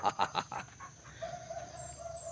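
A chicken clucks nearby in a quick burst of four or five sharp clucks, followed by quieter background sounds and a faint high tone.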